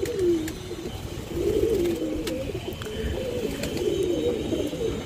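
Domestic pigeons cooing close by in the rainy season, repeated soft throaty coos in phrases over a steady background.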